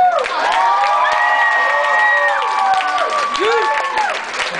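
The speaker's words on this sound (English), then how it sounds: "All right, a round of applause." Audience at a graduation-night hypnotist show cheering and applauding a contestant, loud sustained clapping with shouts and whoops, sung or held vocal tones rising over the crowd.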